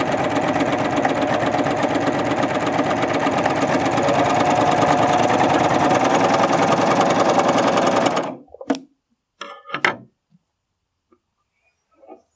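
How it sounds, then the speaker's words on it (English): A Baby Lock Ovation serger stitches fabric at speed, a loud, close, rapid mechanical rattle lasting about eight seconds before it stops, followed by a few short handling clicks and bumps. "And continue serging all the way to the end."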